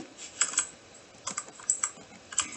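Computer keyboard keys clicking in short irregular bursts of several presses each, close and fairly quiet, with no talking.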